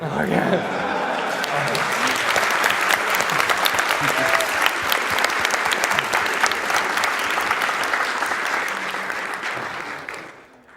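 A crowd applauds at a Kaizo Mario World speedrun event, sustained, loud clapping filling the room for about ten seconds before tapering off, with voices talking faintly underneath.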